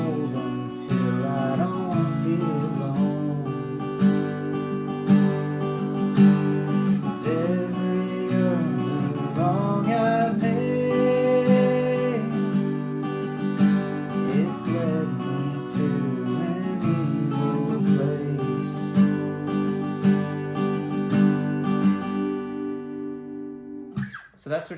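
Pre-chorus of a song strummed on a guitar, with chords ringing close and loud in a steady rhythm that shifts between chords for about twenty-five seconds.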